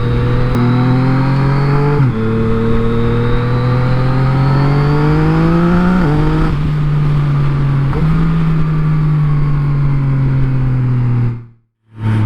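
A Yamaha MT-09 motorcycle engine held in third gear around 3,000–4,000 rpm, a loud, steady engine drone whose pitch climbs in several stepped surges, with a brief cut near the end.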